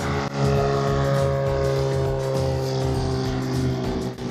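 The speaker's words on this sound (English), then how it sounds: "Is a plane about to take off over there?" A small Cirrus plane takes off on an early-morning private flight, its propeller engine a loud, steady droning roar with strong tonal hum that holds throughout without a break.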